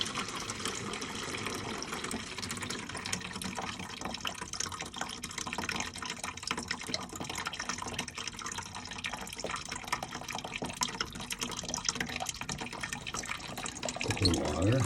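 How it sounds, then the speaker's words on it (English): Hot water lines opened while draining a camp's plumbing for winterizing, giving a steady broadband rush of running water that continues throughout, fairly loud and close, with a brief louder surge near the end. "Okay, we'll open up these hot water."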